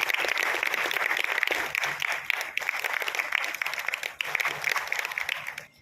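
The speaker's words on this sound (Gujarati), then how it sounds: "જોરદાર તાળી" An audience at a natural-farming farmers' gathering gives a guest a long, loud round of clapping that continues steadily for several seconds, dense and close.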